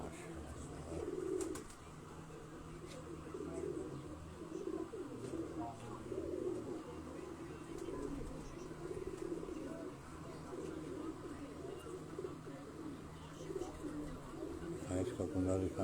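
A dumcheer pigeon from Ustad Ikhlaq Ahmad Khan's loft coos softly in low, repeated rolling phrases, with other birds chirping faintly and a steady background hum throughout.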